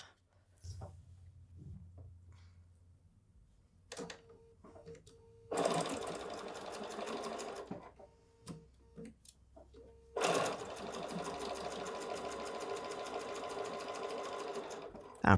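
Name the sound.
sewing machine stitching fabric pillow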